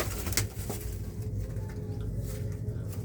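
Pigeons in a loft coo in soft, repeated low throbbing calls close by, with a few faint rustles and clicks in the background.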